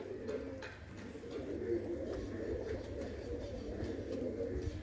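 Pigeons coo repeatedly in soft, low, rolling calls, fairly close, with no talking.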